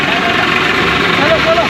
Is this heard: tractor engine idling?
yes